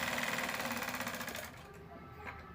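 A sewing machine stitches a blouse lining in a fast, even rattle of needle strokes that runs for over a second, then stops, leaving faint room noise.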